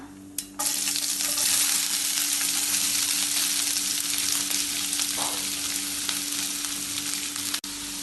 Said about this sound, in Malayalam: ഇതിനി ലൈറ്റ് ബ്രൗൺ നിറാവുന്നത് വരെ ഇളക്കി വഴറ്റാം